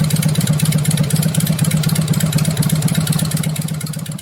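Harley Sportster 1200 running on straight-pipe headers with no mufflers, a loud, close, rapid lumpy idle that thumps steadily, easing slightly toward the end.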